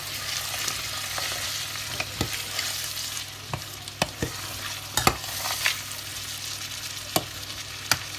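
Green onions and green beans sizzle steadily in a hot pan for Nigerian fried rice while a utensil scrapes and taps against it at irregular moments.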